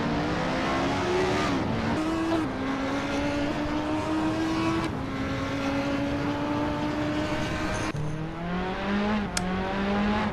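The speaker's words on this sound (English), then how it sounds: "Two McLarens battle." Race cars, including two McLarens, roar past in close competition, their loud engines holding steady high whines with repeated pitch shifts from gear changes and speed swings for the whole stretch.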